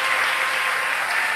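Studio audience applause at the start of a church-themed broadcast, a dense, even wash of clapping from many hands, loud and continuous throughout.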